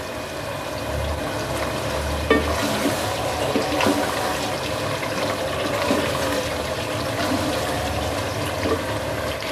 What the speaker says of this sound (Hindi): उसी प्याली से मैं 7 प्याली पानी इसमें डाल रही हूँ।